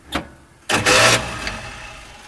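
A starter cranks the engine of a 1953 Oldsmobile Rocket Super 88 barn find, a short click followed by a loud, harsh burst of cranking that fades into a brief rough catch, close up.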